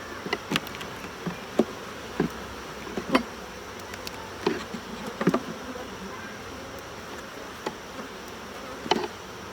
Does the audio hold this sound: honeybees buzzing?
yes